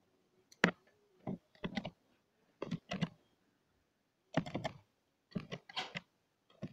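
Typing an email on an RCA tablet's keyboard: sparse clusters of soft, close taps and clicks in short bursts separated by brief pauses, fairly quiet, with no talk over them.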